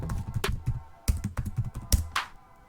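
Fast typing on a computer keyboard, an irregular run of close, crisp key clicks over a few seconds with no talking.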